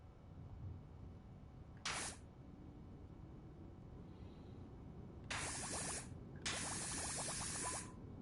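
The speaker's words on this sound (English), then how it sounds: "I like the sounds it makes, the bubbling." Soap spray from a pressure washer in PowerWash Simulator, heard as three loud hissing, bubbling bursts: a short one, then two longer sprays back to back, over a steady low background.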